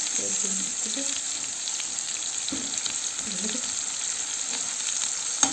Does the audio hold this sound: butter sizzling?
yes